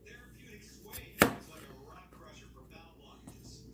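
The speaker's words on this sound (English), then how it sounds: "chop these potatoes and get them started" A knife chopping potatoes on a cutting board gives one sharp, close chop, with fainter knocks before and after, over quiet background noise.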